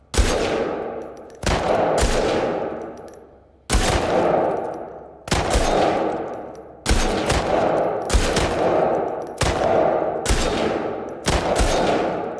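Rapid bursts of automatic gunfire in a video game shooting contest crack out loud and close, about eight sustained volleys separated by brief gaps, each burst trailing off with a ringing tail.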